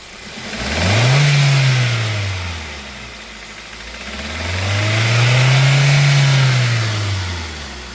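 Two smooth revs of a 2019 Hyundai i20 Active petrol engine rise and fall close by, the pitch climbing then sinking back to idle each time, loud and free of speech.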